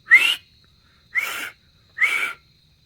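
Three short, breathy rising whistles, evenly spaced about a second apart, sound close and clear against near silence.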